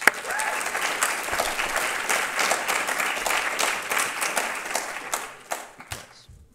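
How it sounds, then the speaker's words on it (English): Audience at a Martin Luther King Jr. celebration claps for an essay contest winner: dense, steady applause from a sizable crowd, thinning out into scattered claps at the end. "Give him a round of applause."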